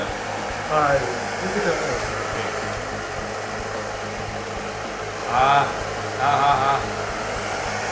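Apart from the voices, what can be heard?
hair dryer blowing hair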